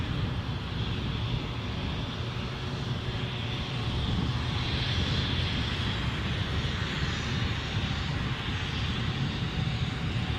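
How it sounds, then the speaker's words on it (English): Embraer 190 jet at Edinburgh airport bound for Palma, a steady broad roar of engine noise with wind rush, sustained and fairly close for the whole stretch with no talk. "So this one bound for Palma, Mallorca. In Embraer 190 standard."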